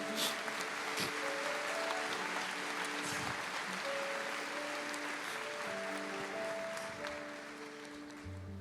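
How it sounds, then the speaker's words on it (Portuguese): Congregation applause fills a church service, a steady dense wash of clapping throughout with sustained organ or keyboard tones underneath and a faint voice near the end. "Aplauda ao Senhor, meu querido."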